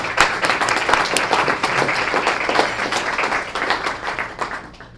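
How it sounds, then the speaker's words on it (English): Applause rises from an audience at a Student of the Month recognition ceremony, a dense, steady wash of many hands clapping near and loud, holding for about five seconds before thinning slightly at the end. "let's give them all a great round of applause"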